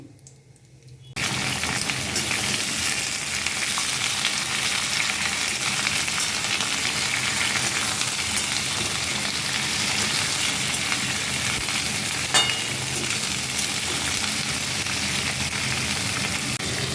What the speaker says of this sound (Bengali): এই সবজিগুলো একটু ভাজা হয়ে গেছে।